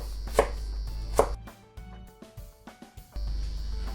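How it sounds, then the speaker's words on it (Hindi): A knife chops fresh coriander and green chillies on a board, with a couple of sharp cuts, then a pause of lighter, scattered knocks before steady chopping resumes, close and alone. "थोड़ा फ्रेश हरा धनिया ले लेंगे, उसको भी चॉप कर लेंगे।"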